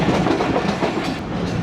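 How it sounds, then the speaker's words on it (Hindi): Passenger train bound from Karachi to Mirpur Khas rolling along the tracks in Pakistan, a steady loud rumble of wheels and carriages with faint clickety-clack, close by and continuous, with no voices. "कराची से मीरपुर ख़ास जाने वाली है ट्रेन"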